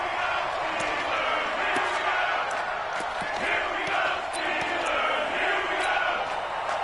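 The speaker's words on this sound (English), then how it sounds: "the crowd getting into it as we come up on a big 3rd down." A stadium crowd in a football video game roars steadily ahead of a big third down, a dense, continuous wall of cheering and shouting with scattered sharp claps, loud throughout.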